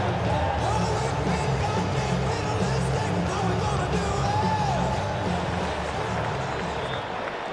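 Stadium crowd in the video game Madden NFL 26 keeps up a steady, dense roar of cheering and yelling, fairly loud and unbroken, with no clear individual voices.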